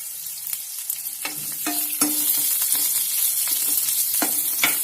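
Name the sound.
frying chillies and curry leaves in a pan for radish chutney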